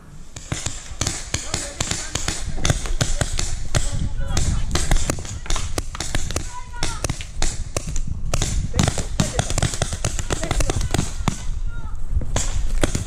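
Paintball guns fire in rapid, overlapping bursts during an outdoor paintball game in Trelawny, Jamaica, the cracks close and loud, with players shouting and talking throughout.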